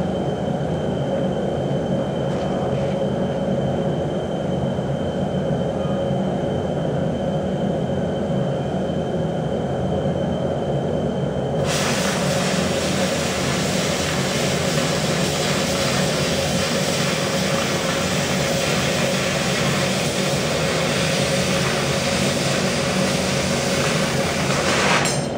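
An oxy cutting torch with a clean tip cutting 1/4 inch steel plate, producing a loud continuous roaring hiss that grows brighter and harsher partway through as the oxygen jet kicks in, with no talking.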